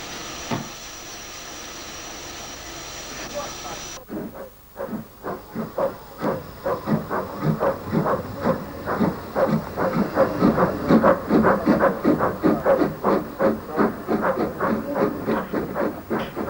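Steam locomotive Sutton at Rolvenden gives a long continuous hiss of escaping steam, then settles into rapid rhythmic chuffing puffs that grow louder and stay close and prominent.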